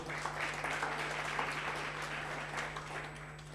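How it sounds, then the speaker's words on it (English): Sustained applause from a conference audience for a keynote speaker at a library international conference, many hands clapping in a steady wash with a constant low hum underneath. "Let's give him a big round of applause."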